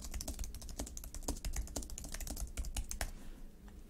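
Fast, steady typing on a computer keyboard as an objective is entered, a dense run of crisp close key clicks lasting several seconds with no voices.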